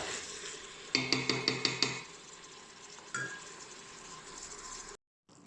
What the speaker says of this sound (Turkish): Ve kuzu etiyle de etimin rengi dönene kadar kavurmaya devam ediyorum.